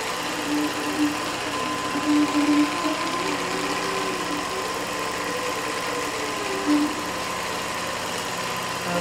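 A sewing machine stitches rows of quilt blocks and sashing, a steady mechanical hum and whir with slight changes in speed, running continuously at close range.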